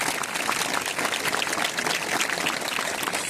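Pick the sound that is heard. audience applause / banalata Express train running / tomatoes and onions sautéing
audience applause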